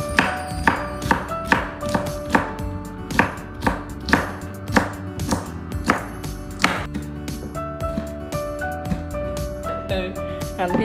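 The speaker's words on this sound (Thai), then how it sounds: "เราจะหั่นแบบนี้ไปทุกอันเลยนะคะหั่นไปเรื่อยๆค่ะ" A knife chops long beans steadily on a cutting board, sharp regular thuds about two per second, close up, with someone talking quietly at times.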